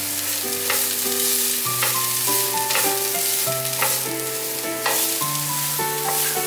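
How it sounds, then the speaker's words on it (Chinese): Carrots stir-frying in a wok with minced ginger produce a loud, steady sizzle with occasional stirring scrapes, playing under background music. "放入红萝卜"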